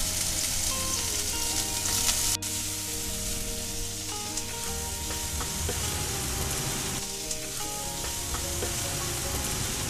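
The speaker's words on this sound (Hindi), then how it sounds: "हम ये सबको अच्छे से हम फ्राई कर लेंगे" Finely chopped medium onion, green chilies, garlic and a small piece of ginger fry in hot oil, giving a dense, steady sizzle and crackle that fills the whole stretch, close and loud, with no talking.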